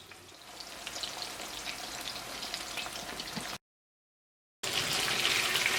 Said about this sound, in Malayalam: മീഡിയം ഫ്ലെയിമിലിട്ടിട്ട് മൊരിച്ചെടുക്കുക.